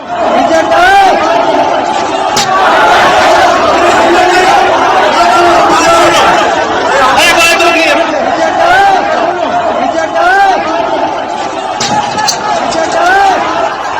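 A crowd in Bareilly presses against a police barricade, a loud, continuous roar of shouting and overlapping voices close at hand, with occasional sharp thuds and bangs breaking through the din.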